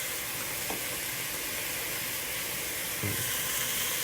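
A pot of soup cooks on the stove with a constant, loud hissing simmer, and a couple of brief knocks or stirs break through the steady steam noise; no one speaks.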